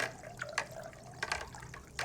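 Water from a tap or watering can splashes and trickles in uneven bursts while potted plants are being watered with warm water, fairly close, with no talking.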